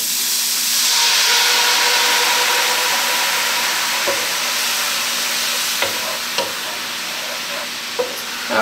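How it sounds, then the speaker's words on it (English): Sherry hits a hot pan after garlic is quick-fried, letting out a loud steady hiss and sizzle that eases over time, with a few light scrapes and knocks near the end. "now we're going to deglaze with the sherry"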